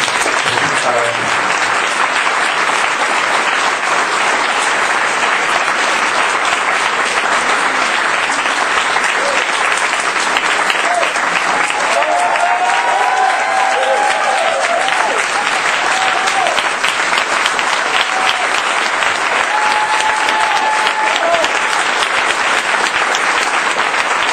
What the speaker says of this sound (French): on lui mérite une bonne main d'applaudissements